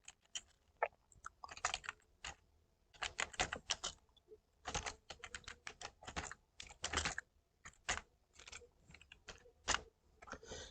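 Computer keyboard keys clatter in irregular bursts of quick taps with short pauses, close and fairly quiet, as text is entered into a Microsoft Excel spreadsheet for a bill.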